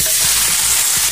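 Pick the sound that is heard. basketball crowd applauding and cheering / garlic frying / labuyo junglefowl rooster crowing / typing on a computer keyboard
garlic frying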